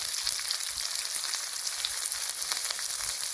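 Chopped onion hits hot oil in a pan already holding garlic and ginger, giving a loud, continuous close sizzle and crackle with no talking.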